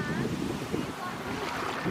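Ocean waves rolling onto a beach, a steady broadband wash of surf with strong wind buffeting the microphone throughout, loud and close with no clear individual breaks.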